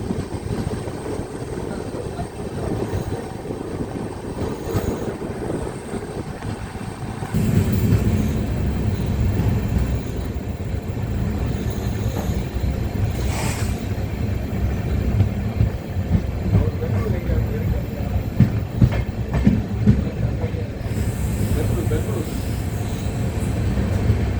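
The Mayiladuthurai–Karaikudi passenger train pulls away from a station and gets underway: a steady, heavy rumble that swells and grows louder partway through, then rolls on continuously, with voices faintly mixed in.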